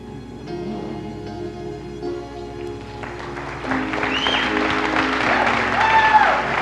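An audience at the Christian Life Center's 'I Believe In America' program applauds combat veterans. The clapping is blended with sustained music and swells louder over the last few seconds.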